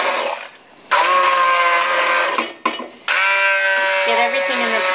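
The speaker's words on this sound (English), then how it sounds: "What we're going to do now is use my immersion blender" An immersion blender whirs through a pot of zucchini and basil soup in two long, steady bursts, loud and close, with a short pause between them as the motor cuts off and restarts.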